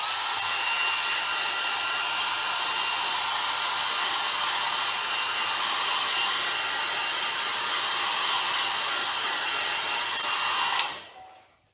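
Hair dryer blowing on glue during an orc blade prop build, a steady loud close roar that runs unbroken for about eleven seconds, then clicks off and fades out, with no talk.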